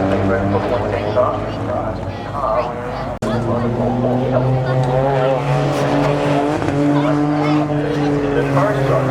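The 110 rally car racing on a gravel stage of the McRae Rally Challenge, a loud engine roaring and shifting pitch close by, under a commentator's voice.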